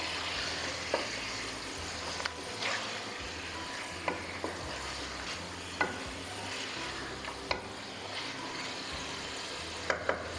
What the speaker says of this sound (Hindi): मटन को मैंने फ्राई कर लिया